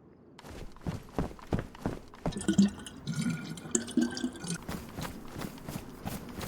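Water is drawn from a well in the DayZ video game on the Chernarus map, with soft dripping and filling splashes mixed with footsteps, fairly quiet and close.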